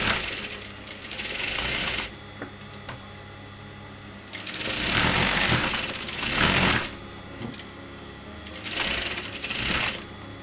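A sewing machine stitches fabric around a kameez neckline in three bursts of rapid, close mechanical whirring, broken by short quiet pauses.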